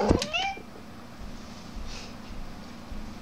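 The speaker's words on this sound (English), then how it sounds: "Cat." A single short, close meow rings out at the start, followed by quiet room noise and faint soft shuffling.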